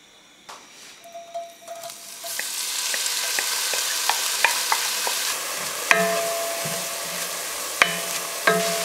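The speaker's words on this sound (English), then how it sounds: "add a little olive oil, and then I'm going to saute the onions" Onions sauté in olive oil in a heated soup pot for borscht, a steady close sizzle with occasional stirring clicks and scrapes, rising after a quieter start and continuing without speech.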